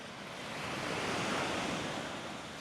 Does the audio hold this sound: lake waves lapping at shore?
yes